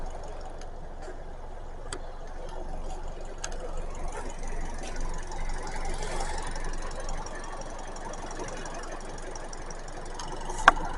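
Kia K4 MPI engine idling under the hood, with a steady, fairly loud valve train ticking and chatter layered over a broad mechanical hum, plus one sharp click near the end.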